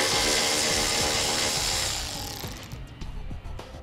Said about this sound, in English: we'll remove the bolt that secures it